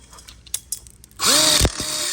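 A power drill drives a self-drilling hex head screw into the steel frame of an outdoor kitchen module. After a few light taps there is one short, loud whirring burst that ends abruptly.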